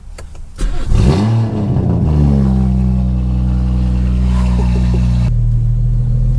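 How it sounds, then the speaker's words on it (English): A BMW 340i with the B58 engine and an aftermarket exhaust fires up, a sharp loud bark at start-up settling into a steady, deep, rumbling idle up close. "I'm about to give it a little start up right here"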